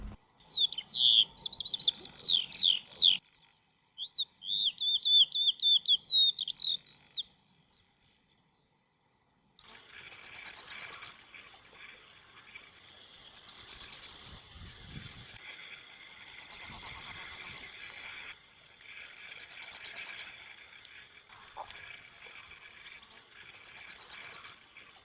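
Several wild birds sing in sequence. Fast, high trills open the passage, then a short gap, then a repeated bright phrase returns about every three seconds against a quiet background.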